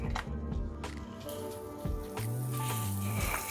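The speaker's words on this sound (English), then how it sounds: "we want to drop our butter in and listen to it sizzle." Butter drops into a hot cast iron skillet and sizzles with a soft, crackling hiss, faint and close, while quiet tonal background sounds run underneath.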